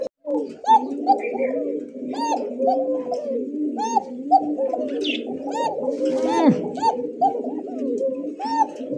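Bashiraj koka pigeons coo repeatedly at close range, with overlapping rolling calls in a steady rhythm and a few faint chirps among them.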